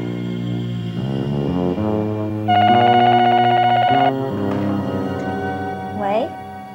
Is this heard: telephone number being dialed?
yes